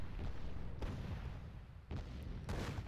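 Heavy booming cannon blasts from a game, several deep explosive hits over a constant rumbling battle din.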